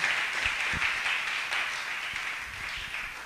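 Church congregation applauding during a service, a dense sustained clapping that fills the room at steady volume and tapers slightly toward the end.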